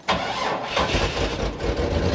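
A kustom 1954 Chevy hot rod engine cranks and fires, then runs with a rough, rumbling mid-pitched idle close up, loud and steady without voices.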